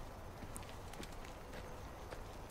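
Goat hooves in Far Cry Primal beat a quick, continuous clip-clop of running animals at close to moderate distance, steady against a busy game background, with no talking.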